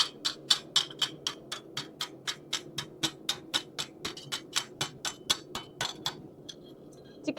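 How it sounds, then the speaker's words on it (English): A hammer shaping a metal sleigh bell, striking in a steady rhythm of about two bright metallic taps per second, each ringing briefly, close to the microphone. "we're going to start having a little bit of trouble getting the hammer inside of here"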